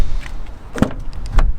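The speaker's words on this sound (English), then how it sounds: "We're going to close the door." A Range Rover Evoque door swings shut with a single solid thump, followed a moment later by a softer mechanical clunk from the latch or lock.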